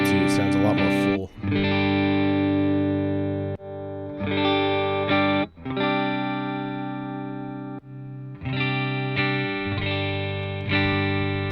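Electric guitar through a '69 Duo Reverb amp model, version 2, in the Bias FX app: a series of clean strummed chords, each ringing for a second or more before the next strum.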